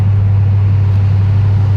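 2007 Mercedes-AMG SL55 engine heard from inside the car under hard acceleration, a dense steady low drone with a strong deep hum, loud and continuous, no voices.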